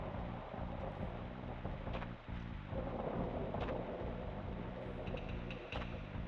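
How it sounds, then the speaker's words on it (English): Heavy rain and rolling thunder from a video game storm level with lightning, a constant loud downpour under deep rumbles, with a few sharp cracks cutting through. "I wonder if there's a way for me to turn off the lightning."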